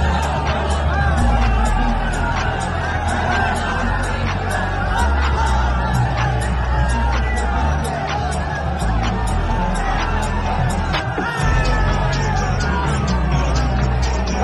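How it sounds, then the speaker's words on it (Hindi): A large crowd near Varanasi Cantt station awaiting a Modi rally, a dense, loud, continuous hubbub of many voices with shouts and whoops, heard up close with people talking throughout. "तो ये कितनी भीड़ है।"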